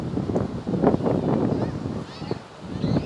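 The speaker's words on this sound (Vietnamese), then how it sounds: "đây là gió biển của chiều Phan Rí nha bạn" Sea wind gusting across a beach at Phan Rí in the late afternoon, a steady broadband rush with rising and falling buffets on the microphone, loud and close throughout.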